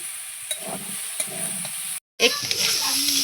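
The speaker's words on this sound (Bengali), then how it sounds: "এখানেও নুন হলুদ দিয়ে ভালো করে ভেজে নেব নাড়াচাড়া করে নেব" Salt and turmeric frying and being stirred in a pan: a steady hissing sizzle with light scraping clicks from the spoon, briefly cutting out to silence partway through before resuming.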